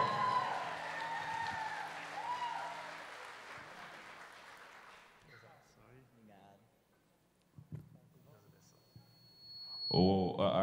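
Applause from a sertaneja romaria audience for Arthur Noronha, a viola player, rising at the start and thinning out, followed by someone talking and a brief burst of sound near the end.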